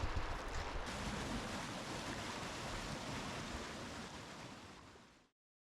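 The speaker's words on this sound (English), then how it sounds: "hear the sound of the Gallatin River at Axtell Bridge" The Gallatin River rushes steadily past Axtell Bridge in Montana, a dense, continuous wash of flowing water heard close up with no voices, until it cuts off abruptly near the end.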